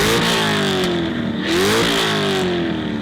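A Chevrolet Corvette C6 V8 engine revs loudly and close up, its pitch climbing, dipping and rising again in a raw, continuous roar with no voices.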